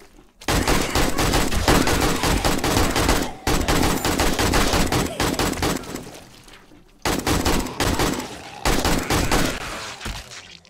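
Bursts of AK rifle fire in the survival game 7 Days to Die, several loud sustained automatic volleys separated by short pauses, close and dominant with no talk.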